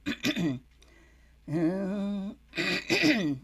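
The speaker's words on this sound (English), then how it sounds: "That's why I keep clearing my throat." A person at an open mic clears their throat repeatedly in raspy, voiced bursts: a quick double rasp, then a longer drawn-out one, then another pair, close and fairly loud.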